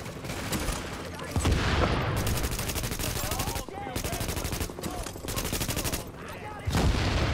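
Rapid bursts of automatic gunfire from the shooter video game The Division, loud and close, with repeated sustained volleys broken by short gaps and a heavy boom near the end.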